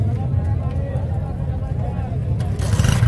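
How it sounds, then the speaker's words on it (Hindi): Used motorcycle at a Sunday bike market in Karachi, its engine running with a steady low rumble up close while someone talks over it, revving briefly toward the end. "स्टार्ट करके साउंड भी सुना देता हूँ मैं आपको"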